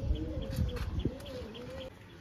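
A pair of Giribaz pigeons coo softly and close by, with low rolling calls and a few faint chirps over quiet background noise.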